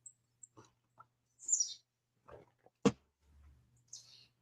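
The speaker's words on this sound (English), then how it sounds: "We got a little flock of birds coming through here." Small woodland birds, chickadees and a tufted titmouse, call from a back deck in winter: scattered short chirps and whistles at close to middle distance, separated by quiet gaps, with one sharp louder note.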